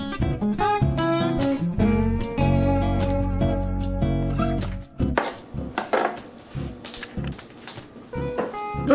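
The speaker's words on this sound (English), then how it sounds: "just go ahead and cut the zucchini and the onion" Knife chopping zucchini and onion on a cutting board, a quick run of sharp, close taps and thunks with a steady rhythm, then scattered slower cuts, with no talking.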